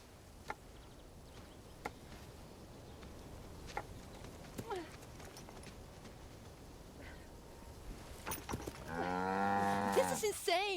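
A cow moos loudly near the end, a long wavering low call rising over quiet background with a few scattered knocks and footsteps before it, and voices faintly present.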